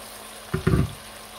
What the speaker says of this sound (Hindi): 1/2 कप मैं पानी डाल रही हूँ।